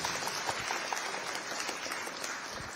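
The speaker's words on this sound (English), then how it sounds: "let's give General Lucky Rabo an applause" A crowd at the Delta State security trust fund launch applauds General Lucky Rabo, a sustained, even roar of clapping that continues unbroken throughout.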